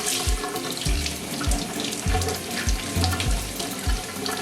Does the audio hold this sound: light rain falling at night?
no